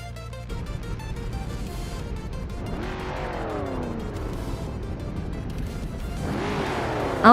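Vintage race cars, including a 1977 Aston Martin, launch off the grid at the Deutschlandring in a racing video game, engines revving and rising in pitch together with tire squeal, loud and continuous throughout.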